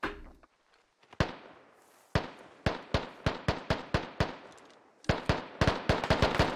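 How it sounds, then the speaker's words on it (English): Enemy gunfire in the military shooter Squad, a distant series of sharp cracking shots, first isolated single reports, then quicker clustered volleys with echoing tails. "Russians returning fire here."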